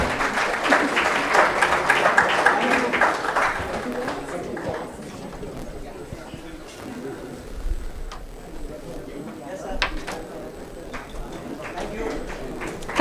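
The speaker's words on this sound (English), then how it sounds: "Yes, a round of applause," Audience applause during a felicitation at a medical association event, dense clapping for the first few seconds that thins to scattered claps and murmuring voices.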